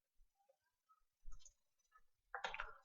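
Computer mouse clicks while filling a series of numbers in Excel: a few soft, sparse clicks and small taps, ending with a louder burst of clicking, close and quiet with no talk.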